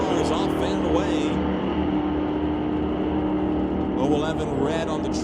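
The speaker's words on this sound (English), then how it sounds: "Cars off and away." Drag race cars launch off the line at a National Tire Wholesale Pro Race in the JBS Equipment ET Series, a dense sustained engine roar filling the whole stretch with a track announcer talking over it.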